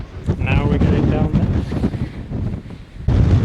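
Strong wind buffets the microphone on Loose Hill, a muddy Peak District hilltop near Kinder Plateau, a loud continuous roar with gusty swells and a harder blast near the end.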